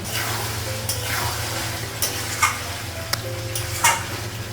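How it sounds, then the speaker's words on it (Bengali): Meat and potatoes sautéed in a pan, a continuous sizzle with a spatula scraping and tapping the pan in occasional strokes, close and moderately loud with no voices. "আর আলুটা লাগিয়ে দিয়ে মাংসটা কষে নেব"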